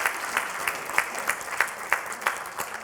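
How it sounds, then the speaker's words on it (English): A small audience at a national budget review event applauds to welcome the minister, a light, sparse patter of hand claps with a few sharper claps, heard alone and fairly faint. "Please, let's give him a hand of applause"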